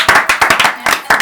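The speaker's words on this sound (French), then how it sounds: "j'aimerais qu'on l'applaudisse" A small audience claps for a makeup artist on a Halloween TV set, loud and close, about a dozen sharp, uneven claps in a quick burst with no voices over them.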